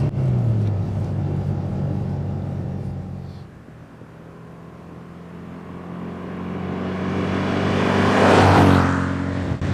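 A Rover P6 2000TC engine heard from inside the car while driving, a steady close rumble that eases off and then rises again as it revs up, with no talking.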